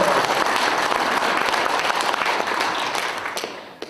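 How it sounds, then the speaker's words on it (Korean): An audience at a community committee inauguration ceremony gives a short burst of dense applause that fades out after a few seconds. "우리 시원님들 힘내시라고 박수 한번 부탁드릴게요"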